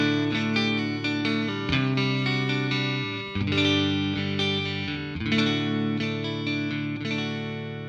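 Clean electric guitar on the neck pickup through a Fender Twin Reverb Reissue with the bright switch on, strumming full, warm chords in a steady phrase with picked accents, loud and close with no talking.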